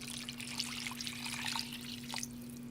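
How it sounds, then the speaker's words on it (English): Water pours into a soup pot of carrots and broth for a vegan carrot ginger soup, a steady close splashing trickle running the whole time over a constant low hum. "and now I'll put in the water"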